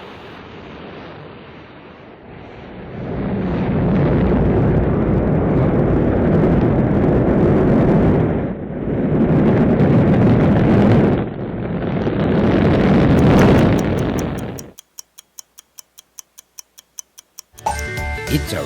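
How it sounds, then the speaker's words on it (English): Rocket launch roar, a loud sustained rumble that swells and dips over several seconds, then gives way to a rapid clock-like ticking near the end. "It's a rocket."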